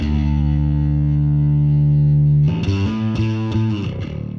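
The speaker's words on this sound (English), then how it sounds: "that really nice distortion, kind of gritty distortion that this particular effect adds is a level-based effect" A sustained low bass note gives way to a rhythmic bass line with a gritty, distorted, buzzy edge, loud and alone.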